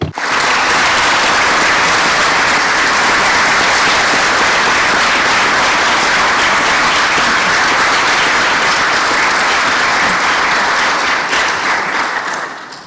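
A large audience at a civil society panel breaks into loud, dense applause after a heartfelt speech, a sustained wall of clapping that holds steady for about twelve seconds before tapering off quickly.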